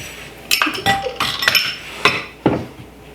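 Dishes and cutlery clink and clatter in a home kitchen as someone cleans up during gluten-free cookie baking, with several sharp, irregular clanks of glass and metal close by.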